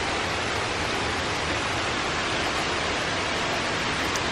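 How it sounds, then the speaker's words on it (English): Water runs steadily from a spout at a Japanese shrine purification fountain in Hakone, a continuous close splashing rush with no pauses and no voices. "pour water on your left hand and rinse your mouth"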